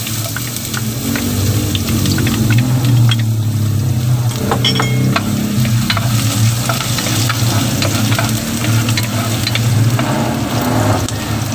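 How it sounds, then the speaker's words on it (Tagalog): Ginger sautéing in hot cooking oil for papaitan, a steady loud sizzle with frying crackle and faint stirring scrapes running throughout, no voices. "Kinit na nga tayo ng mantika. Lagyan na natin itong ating luya."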